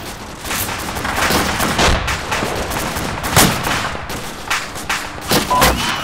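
Sustained gunfire in the video game Arma 2, with tracer rounds coming in from the far southwest of a town: a dense run of sharp shots and thuds, some distant, some louder, with no talking.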